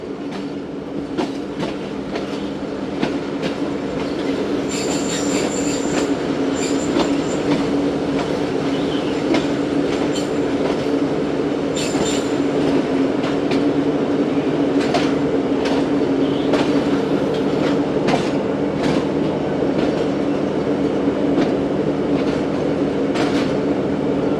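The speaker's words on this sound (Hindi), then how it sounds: "अवाम एक्सप्रेस लगता है इंटर हो रही है।" The Awam Express passenger train rolls into a station in a loud, continuous rumble, with rhythmic clickety-clack from the wheels and occasional faint squeals, heard close and steady throughout with no talk.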